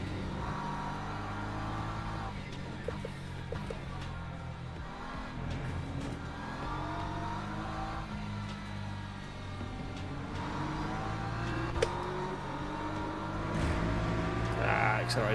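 A race car engine in Le Mans Ultimate at Interlagos drones and revs throughout a multiclass race, with a steady mechanical roar that swells as the car accelerates and a voice talking over it.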